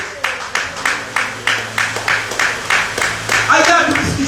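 Congregation clapping together during a church service, in a steady rhythmic beat of about three claps per second, loud and close, ending in a brief swell of voices.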